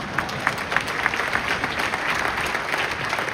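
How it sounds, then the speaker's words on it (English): Applause from a large audience at the SAP Connect 2025 opening keynote, dense and steady clapping that lasts through the whole stretch. "You could clap, but I'll keep going."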